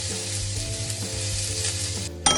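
Singapore noodle vegetables sizzle and hiss steadily as they stir-fry in a hot pan, with a continuous close frying crackle and a few utensil scrapes, no voices.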